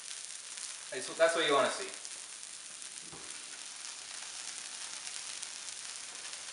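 Cheese arepas frying in a pan as they are flipped, a faint steady sizzling hiss running underneath, with a brief spatula scrape and a short stretch of nearby talking.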